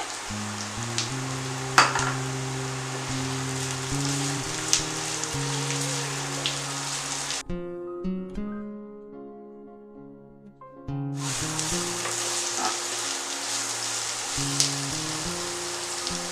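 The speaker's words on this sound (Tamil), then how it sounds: "இப்போ நம்ம கட் பண்ணி வச்சுருக்கிற வெங்காயத்தை இதில் போட்டு நல்லா வதக்கி விட்டுடலாம்." Onions and carrots sauté in a pan, a steady close sizzle and crackle of frying vegetables that drops out briefly midway while background music plays throughout.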